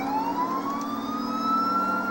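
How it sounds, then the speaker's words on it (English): A police car siren in the video game GTA IV wails loudly and close, one long rising electronic tone sweeping upward and holding, with engine noise underneath. "Siren on."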